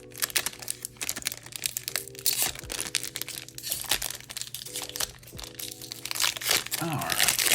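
Crinkly foil wrapper of a Magic: The Gathering Dominaria United set booster pack torn open up close, brief crumpling and tearing over a steady low hum, while someone talks.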